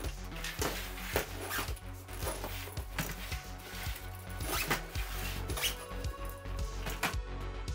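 A bag zipper pulled shut after being forced open makes a steady series of close, rasping clicks and ticks that run for several seconds without talk.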